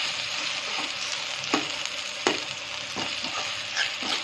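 Chopped tomatoes fry in a pan on low heat, a close, even sizzle with a few scraping stirs of a spoon every second or so.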